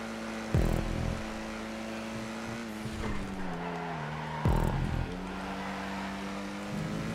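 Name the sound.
racing car engine at full throttle in a video game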